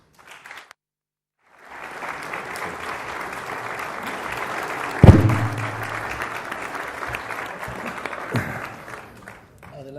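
An audience bursts into sustained applause welcoming journalist Eduardo Inda at a communication forum, steady clapping filling the room for several seconds after a brief quiet start, with a thump midway and the clapping fading near the end.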